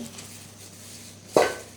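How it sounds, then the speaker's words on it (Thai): A cooking pot being readied for wrapped rice porridge, a single sharp metallic clank near 1.35 s after quiet kitchen stillness, close and brief. "เราก็นำมาใส่ในหม้อเราก็เตรียมหม้อเลย"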